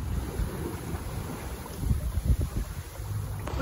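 A sailboat cruises past Miami in busy waters, with steady wind rumble on the microphone and low water wash, a few louder surges of splashing near the end.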